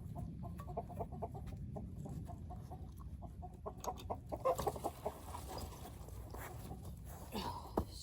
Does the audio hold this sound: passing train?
no